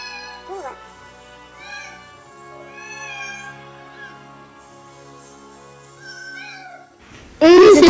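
Cats meow repeatedly in a kitchen, several drawn-out, rising and falling cries at close range, then a loud burst of noise at the end.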